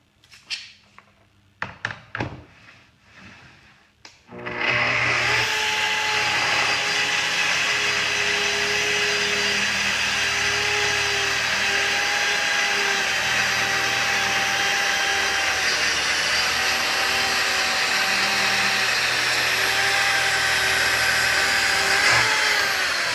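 A Festool TS-55 track saw rips 4/4 quarter sawn white oak: a few handling clicks and knocks, then the motor spins up into a loud, steady, close whine that holds for about eighteen seconds before cutting off.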